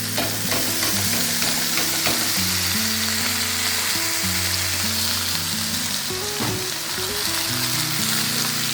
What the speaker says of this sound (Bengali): এই সবজিগুলো আগে এর মধ্যে ভেজে নেব।